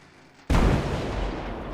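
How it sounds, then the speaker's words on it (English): A gasoline tanker car explodes in the train game Derail Valley: a sudden loud, close boom bursts out of near-quiet and rolls on as a sustained roaring rumble. "We know that's going to explode."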